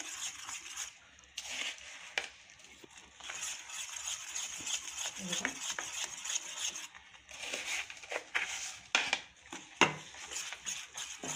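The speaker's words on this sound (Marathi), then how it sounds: "कंटिन्यू फिरवत राहायचं आहे आणि गॅसची फ्लेम लो ठेवा" A spoon stirs a biscuit-powder sweet dessert mixture in a pan over a low gas flame, making a steady close scraping and rubbing with small irregular clicks throughout.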